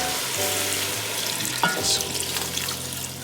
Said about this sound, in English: We're gonna add the wine, and then I'm just gonna give it a stir.